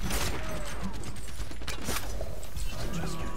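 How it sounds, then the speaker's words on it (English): Heavy automatic gunfire from the video game Overwatch roars as a dense, continuous barrage of shots layered with mechanical clatter, loud and unbroken throughout. "You have endless of ammo, which is very weird for shooting heavy."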